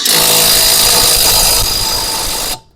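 An ELTOS cordless battery impact wrench with a 600 N·m rating and an 8 Ah battery runs loud and steady while unscrewing a bolt, then cuts off abruptly near the end.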